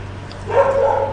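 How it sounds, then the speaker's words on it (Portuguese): A neighbour's dog gives a short whining bark, close and fairly loud, over a low steady hum. "Vocês estão escutando o cachorro latir?"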